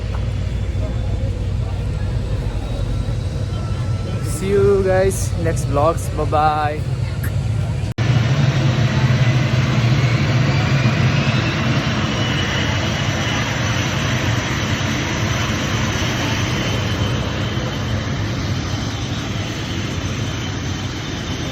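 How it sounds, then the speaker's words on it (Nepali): A steady, loud engine roar from an airplane taking off for Pokhara, Nepal fills the whole stretch. A person speaks briefly over it near the start. "प्लेन उठ्न लागिरहेको छ"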